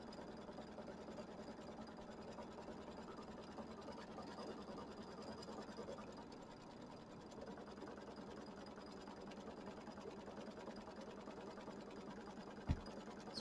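An embroidery machine stitches tack-down lines on a Kimberbell mini quilt block, giving a faint, steady mechanical whir with a fast regular stitching rhythm and a brief sharp knock near the end.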